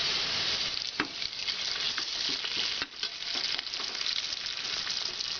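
Onions sautéing in a pan for a Kerala-style beef biryani, a steady close sizzle with occasional scraping clicks from stirring, no voices.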